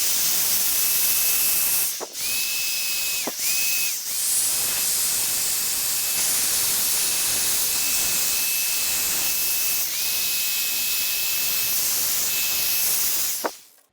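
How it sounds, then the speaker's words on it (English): Water spray rinses down Range Rover headlights in a steady, loud hiss that runs almost unbroken for about fourteen seconds, with a few brief cut-offs where the sprayer pauses. "We'll rinse everything down."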